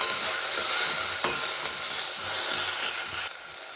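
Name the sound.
tomato frying in a pan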